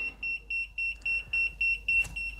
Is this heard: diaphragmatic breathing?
no